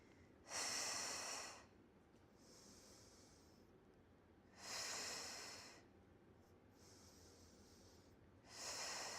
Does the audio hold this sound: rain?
no